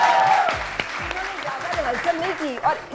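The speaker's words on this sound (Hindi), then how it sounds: "फायजा, इनके लिए तालियां।" A studio audience bursts into dense, sustained applause with some cheering, steady and loud throughout, while a voice speaks over it.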